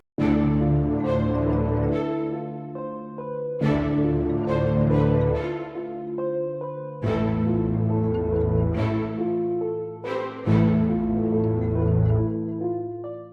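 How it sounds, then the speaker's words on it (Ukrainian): A hip-hop beat with deep bass and punchy drum hits under a repeating melodic loop, loud and steady, with no voices. "Починається цей біт ось так."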